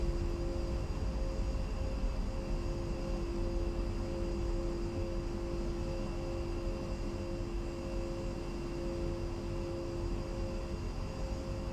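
A-10 jet in a flight simulator game idling after landing, a steady close engine drone with a broad roar and constant whining tones, unbroken and loud throughout.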